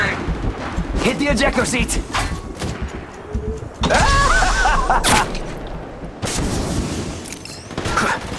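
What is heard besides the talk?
gunfire in video game Apex Legends Mobile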